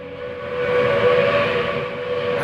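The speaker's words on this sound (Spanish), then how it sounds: "El tren silbó temprano en los andenes." A steam locomotive's whistle sounds on a station platform, one loud, steady, sustained tone lasting throughout, with a low rumbling beneath it.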